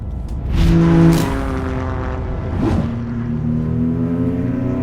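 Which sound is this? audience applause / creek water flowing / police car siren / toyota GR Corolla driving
toyota GR Corolla driving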